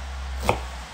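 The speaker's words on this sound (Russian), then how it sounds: "И 3 луковички нарезаем." A single sharp knife chop on a cutting board as onions are cut, brief and close, with a low steady hum underneath.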